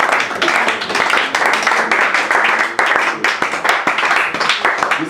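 A church congregation at a French-language morning prayer service breaks into sustained, dense applause that continues loud and steady throughout.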